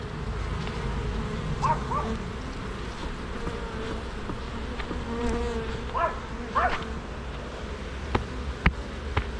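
Honey bees buzz continuously around a hive while honey frames are being removed, a dense insect drone with a few short louder buzzes passing close by.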